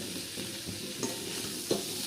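Boiled potatoes are sautéed and stirred in a pan with turmeric and salt, giving a soft continuous sizzle broken by a few light scraping clinks of a spoon.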